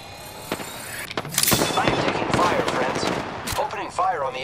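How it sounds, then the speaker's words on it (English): Rapid bursts of automatic gunfire mixed with single sharp shots in the Apex Legends battle royale game, loud and close, with clattering impacts and brief electronic effects between volleys. "Listen up, I'm getting shot."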